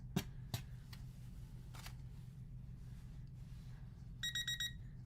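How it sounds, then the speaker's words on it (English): A small kitchen-style timer alarm beeps in a quick pulsed burst near the end, after quiet room tone with a few soft knocks and handling sounds during crocheting. "Is my little timer ever going to go off?"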